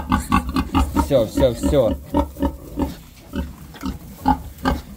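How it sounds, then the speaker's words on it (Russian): Fat piglets on a farm grunt in a rapid run of short, close, rhythmic snorts and squeals, with someone talking over them. "Толстые у тебя поросятки, да?"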